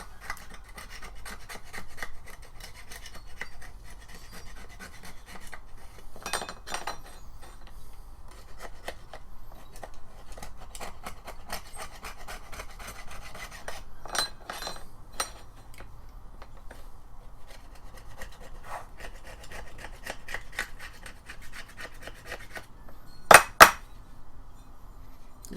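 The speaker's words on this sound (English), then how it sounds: "It's scraping all the junk off of it." Rasping, scraping strokes as junk is scraped off a string trimmer attachment during repair, in irregular bursts with a couple of sharp clinks near the end.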